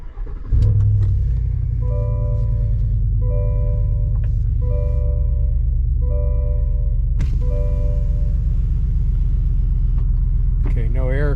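Chevrolet Silverado ZR2 pickup with a muffler delete and cold air intake starts up with a short crank and catches into a loud, deep, steady idle rumble, with a few chime tones sounding over it.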